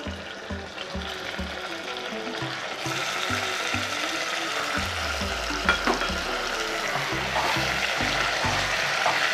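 Marinated chicken coated in curd, salt and turmeric hits hot oil in a pan for chicken curry, with a steady loud sizzle and the scrape and clatter of stirring, no talk.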